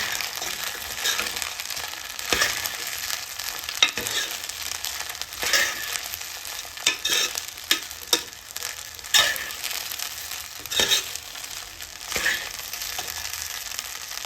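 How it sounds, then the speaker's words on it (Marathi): Peanut powder being stirred into sabudana khichdi in a pan, a steady scraping and stirring with faint sizzling, broken by several sharper knocks of the spoon against the pan, close and moderately loud with no talking. "3 चमचे टाकले मी शेंगदाण्याचा कूट आणि मिक्स करून घ्यायचं."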